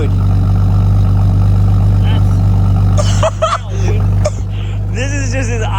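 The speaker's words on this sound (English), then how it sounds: "This is just his idling." A widebody Mustang's engine idles with a steady, loud low rumble filling the first three seconds, then shifts to a quieter idle as people talk nearby over the running engine.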